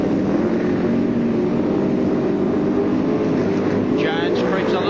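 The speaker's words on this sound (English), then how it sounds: "Up come the engine revs." Touring car engines roar together in a dense, steady mass at a race start at Phillip Island in 1995, loud and continuous, with commentary talk running over them.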